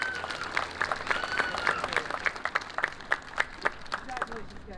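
Applause at a high school awards ceremony, with scattered clapping from an audience that thins into distinct individual claps, alongside cheering voices and some talk.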